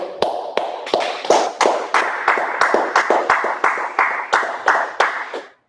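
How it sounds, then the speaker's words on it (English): An audience claps in a steady, evenly spaced rhythm, about a dozen sharp, close claps in sync that end abruptly. "Well, let's clap it up."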